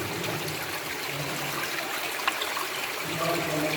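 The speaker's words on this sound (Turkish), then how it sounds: "Burada su çıkıyor." Water flowing out inside Karataş cave in Antalya, a steady hissing rush and trickle that fills the space evenly, close and unbroken, with no talk over it.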